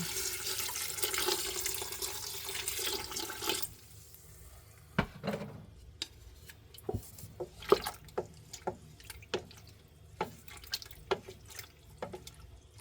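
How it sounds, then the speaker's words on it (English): Water pours into a pot over watermelon rinds sprinkled with ginger, a steady rushing stream for a few seconds that stops, followed by scattered quiet drips and splashes close by. "We've got the ginger sprinkled on top of our watermelon rinds, and I'm going to cover this with water."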